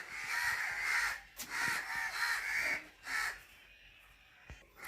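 A crow caws repeatedly at a home in Kerala, several harsh calls in quick bursts with short pauses, fairly close and clear, with no talk over them.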